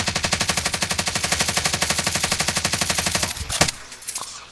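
Rapid automatic gunfire from a Call of Duty: Warzone match, a loud, evenly spaced burst of shots running for about three seconds, then a sharp single blast and scattered fainter shots as the firing trails off.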